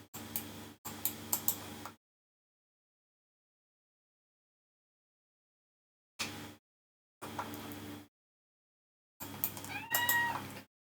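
A cat meows in RuneScape Classic in several short bursts separated by silences, close and clear, with faint ticking clicks between calls.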